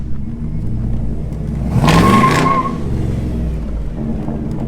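A completely stock shop truck, stripped of hood and bed, revs up hard, its engine note climbing loudly in one surge before easing off near the end.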